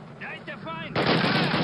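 Gunfire in the video game Call of Duty: United Offensive: a brief shouted voice, then a sudden loud, dense burst of sustained shooting that fills the rest of the moment.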